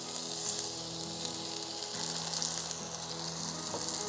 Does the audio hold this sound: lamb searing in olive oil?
yes